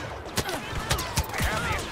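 Star Wars Battlefront blaster fire in a fast exchange, several sharp zapping shots spaced irregularly over a busy background of battle noise.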